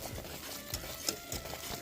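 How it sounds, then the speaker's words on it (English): A spoon stirs a boiling caramel popcorn mixture in a pot on medium heat, giving soft scraping strokes about every half second over a faint bubbling sizzle. "make sure it's boiling and then cook it for 4 minutes, stirring constantly"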